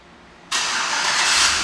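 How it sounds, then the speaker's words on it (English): A 2012 Chevrolet Avalanche Z71 fires up by remote start. Quiet at first, then a sudden loud, steady broadband roar begins and holds to the end, with no voices. "and the car starts right up"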